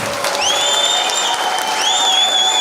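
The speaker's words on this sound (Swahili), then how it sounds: "Pigie Bwana Yesu makofi" A church congregation claps loudly and continuously, with shrill whistles rising over the dense applause.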